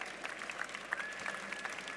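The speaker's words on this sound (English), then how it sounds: "please give them a big round of applause, intergalactic applause for Hanli Prinsloo, Edmore, and Anthony Owosekun" Audience applause for session speakers at an education event on learning in nature, a steady wash of clapping at moderate distance with a faint whistle-like tone running through it.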